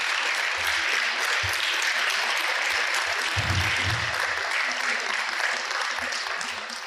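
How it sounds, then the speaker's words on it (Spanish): A church congregation claps loudly and continuously during a Spanish-language sermon, a thick sustained applause with a few low voices or shouts rising briefly in the middle, tapering slightly at the end. "Dale un aplauso al Señor."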